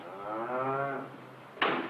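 A milk cow on a 1950s family wheat farm lets out one long, drawn-out moo, loud and close, followed by a brief wooden knock.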